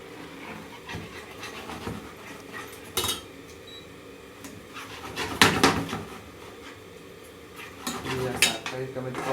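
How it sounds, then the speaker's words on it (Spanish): Metal whisk or utensil scraping and clinking against a pan while egg yolks are beaten into hot pasta, an irregular run of clatters with a few louder bursts over steady kitchen background. "vamos a mantener batiendo constante para evitar que se nos cocine las yemas"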